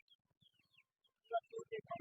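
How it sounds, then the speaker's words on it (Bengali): Roughly 50-day-old fighter chicken chicks at the Mirpur 14 Botatola bird and pigeon market give faint, scattered high chirps, then a closer burst of louder clucking calls in the final second. "এখানে 3টি ফাইটার মুরগির বাচ্চা আছে"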